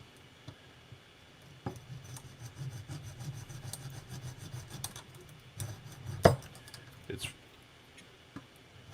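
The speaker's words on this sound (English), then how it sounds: "we can grab our hacksaw" A hacksaw cuts in a garage with quiet, uneven rasping strokes close by.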